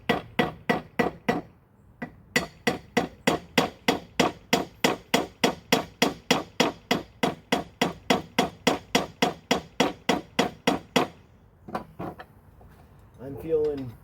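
Rapid, steady clicking from a tool working a stubborn screw on a 1965 Ford Thunderbird during a rebuild, close and loud, about thirty regular strokes that stop near the end before a short voice.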